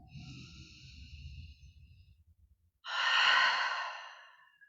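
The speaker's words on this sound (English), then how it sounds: "Just breathe that in for a moment." A single deep breath during a guided meditation, a long soft inhale followed by a louder, airy exhale, close up and with no talking.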